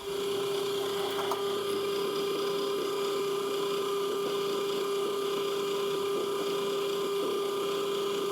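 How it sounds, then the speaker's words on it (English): A steady, close machine whine of drilling holes in brass plugs for M8 tapping holds an even pitch throughout, without a break. "so drill and tap these M8"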